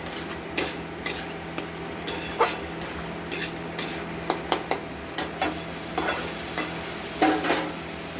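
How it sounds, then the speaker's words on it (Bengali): Spice paste and banana flower being sautéed in a pan, with a spoon scraping and stirring in irregular knocks over a steady low sizzle, close and moderately loud, no talking. "মশলাটাকে আমরা মোচার সাথে কষে নেব।"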